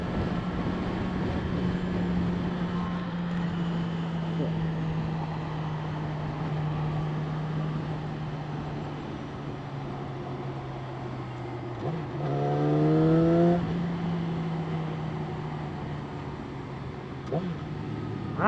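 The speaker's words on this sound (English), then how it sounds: "Wow, the engine revs very fast. It's a very fast revving engine." A 2016 Yamaha R6 sport bike engine drones steadily at freeway speed with a sustained hum, swelling into a brief rising rev near the end amid wind noise.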